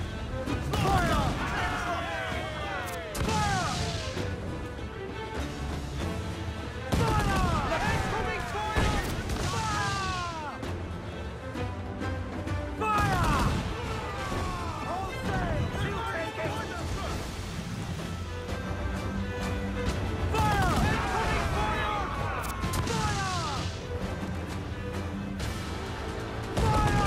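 Cannon fire during a naval battle in a video game, with heavy booms repeating every few seconds over a constant rumble of sea and ship noise, while voices shout orders throughout.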